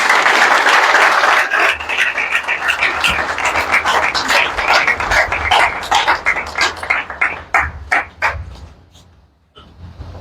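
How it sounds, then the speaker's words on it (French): A crowd applauds loudly for a national party president at a political declaration in Gabon, a dense wash of clapping that breaks into separate claps and dies away near the end. "sous vos acclamations, s'il vous plaît"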